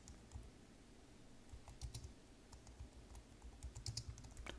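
Quiet, close keystrokes on a computer keyboard type a short note, irregular taps in small bursts over a faint background hiss.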